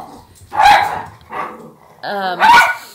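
A small dog barks and yips sharply at a bigger dog, several loud close barks in quick bursts with a whimpering, whiny tone in between.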